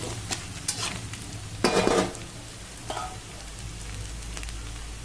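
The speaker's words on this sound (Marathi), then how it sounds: "हे बघा आपला कांदा आता चांगला भाजत आलाय" Onion frying in a pan for kanda pohe, a steady sizzle with a few spatula stirs, one louder scraping stir in the middle and a short clatter after it, heard alone with no voices.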